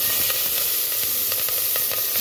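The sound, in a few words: cumin sizzling in hot oil for rice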